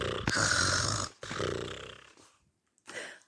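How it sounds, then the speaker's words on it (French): Cartoon snoring effect for a sleeping mouse in a children's story about a mitten: two long, loud rasping snores, each a breath in and out, then a short softer snort after a pause. "la petite souris se faufila dans la moufle, lissa ses moustaches et s'endormit en ronflant comme un bûcheron"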